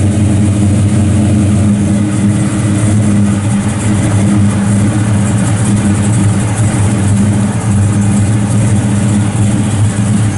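A 1971 Chevrolet Monte Carlo resto-mod with a 6.0 LS V8, stage 3 cam, LS3 heads and all-stainless exhaust idles close by on a chilly day, a loud, steady, deep rumble with no break and no voices.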